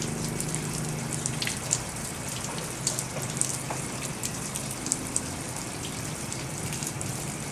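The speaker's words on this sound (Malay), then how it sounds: "basuh tangan hingga pergelangan" Hands are washed up to the wrists under running water during ritual ablution, with a steady gentle stream and small irregular splashes throughout, fairly quiet.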